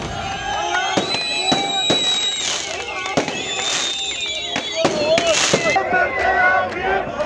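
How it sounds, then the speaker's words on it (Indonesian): Firecrackers snap in sharp, irregular bursts while car horns blare and a crowd cheers at a nighttime ceasefire celebration with flag waving, a voice talking over the noisy outdoor scene. "Petasan menerangi langit saat orang-orang mengibarkan bendera Palestina dan Hamas serta membunyikan klakson mobil mereka"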